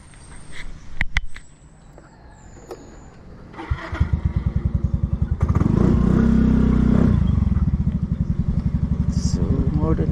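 A motorcycle engine clicks and sputters, then catches and runs with a close, rhythmic, throbbing putter that briefly swells louder before settling into a steady idle.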